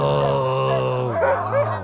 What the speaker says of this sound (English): So all these guys are Alaskan Huskies.